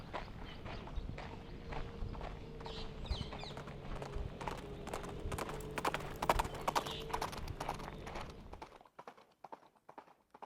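Horses racing on horseback in a ring-tilting contest, riders trying to spear a ring hung between goalposts: steady, rapid clip-clop of hooves close by, continuous and fairly loud, stopping abruptly near the end.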